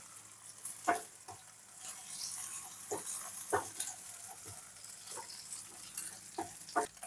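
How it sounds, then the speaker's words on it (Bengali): An egg frying in a pan while mixed chow mein is being made: a steady close sizzle with scattered sharp pops and scraping stir clicks throughout, no talking. "দিয়ে এটাকে ভেজে নেব ডিমটা"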